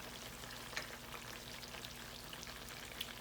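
Potatoes frying in a pan give a soft, even crackle and patter with occasional faint pops, steady and close with no talking.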